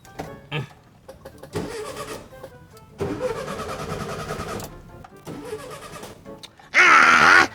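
A car engine cranks and catches in short bursts, then cuts out and falls silent before cranking again, ending in a loud, close roar.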